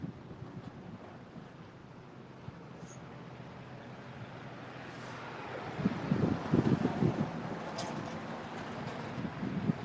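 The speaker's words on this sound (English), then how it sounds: "It's pretty windy." Strong wind gusts roar across an outdoor campsite, buffeting the microphone in a steady broadband rush that swells louder and more turbulent in the latter half.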